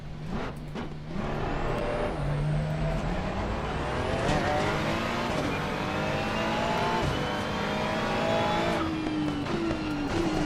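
A Ferrari race car engine in Assetto Corsa Competizione at the Hungaroring, revving up through rising gear pulls with high-pitched whine and shifts, loud and continuous throughout.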